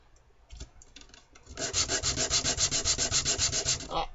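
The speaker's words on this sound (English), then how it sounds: "do a little more sanding because I can" A wooden wedge for scale making is sanded by hand, starting with a few scattered scrapes before settling into a steady, rhythmic back-and-forth rasp of regular, close strokes.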